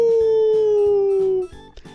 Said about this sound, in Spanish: el aullido de un lobo